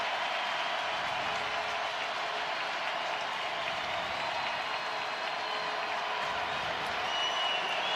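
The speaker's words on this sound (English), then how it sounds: "Cole Payton, as this Alara Center crowd makes some noise." Steady roar of a large college football stadium crowd at a North Dakota State vs North Dakota game, continuous and loud throughout, with a broad wash of cheering and clapping and no clear pauses.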